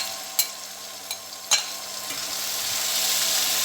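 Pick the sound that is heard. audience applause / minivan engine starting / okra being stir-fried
okra being stir-fried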